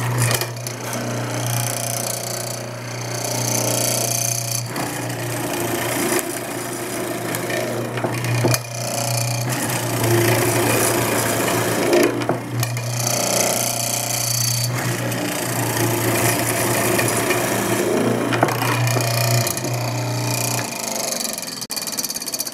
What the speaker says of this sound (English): I'm shoving a hollow square chisel into the wood. And the little drill bit is in the middle removing the waste.